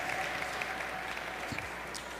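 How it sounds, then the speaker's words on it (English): Steady applause from an audience at a Kwanzaa celebration in San Francisco, dense and sustained throughout without a break. "a big round of applause for Ms."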